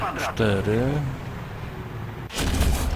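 A tank cannon fires in War Thunder, a loud sudden boom near the end following a stretch of someone talking over quieter in-game rumble.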